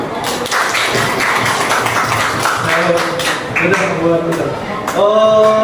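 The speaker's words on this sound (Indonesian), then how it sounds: "Beri tepuk tangan." Classroom audience clapping for a student group after their presentation, dense and continuous across the whole stretch with voices mixed in, ending as a tone-like sound swells near the close.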